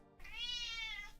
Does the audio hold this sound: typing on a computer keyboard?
no